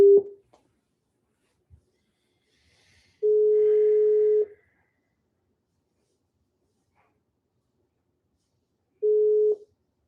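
Telephone ringback tone for an outgoing call: three steady electronic beeps, one short at the start, a longer one in the middle and another near the end, separated by quiet gaps, with no talking.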